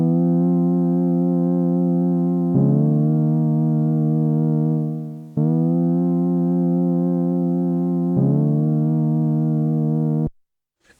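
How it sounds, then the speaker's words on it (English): Bendy synth part played in Logic Pro: a sustained buzzy synth tone that slides in pitch, repeating in a two-bar pattern alone for about ten seconds before cutting off. "It's a synth and it's bendy."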